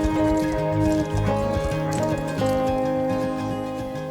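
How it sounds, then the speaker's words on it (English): Horses being led in from the paddocks by young handlers, with steady clip-clop hoofbeats and harness jingle over a sustained tonal backdrop, close and fairly loud throughout. "we filmed the girls fetching the horses from the paddocks"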